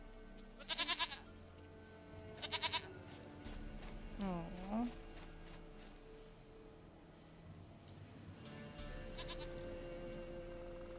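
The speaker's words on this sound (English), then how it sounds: "Goat of mine, dearest, sweetest goat." Goat bleats from The Witcher 3 game: two short, wavering bleats early on, a falling-rising cry in the middle and a fainter one near the end, over steady game background hum, with a voice briefly speaking.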